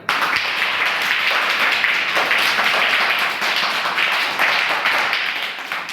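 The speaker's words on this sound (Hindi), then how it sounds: "चलिए एक बार जोरदार तालियां।" Loud, sustained applause from a group, a dense crackle of many hands clapping steadily for several seconds before tapering slightly at the end.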